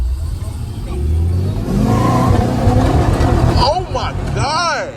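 A 6.1-litre Whipple-supercharged 2006 Chrysler 300 revs loudly and launches from a dig, its engine roar climbing in pitch with rising whine sweeps as the tires spin, while voices shout over it.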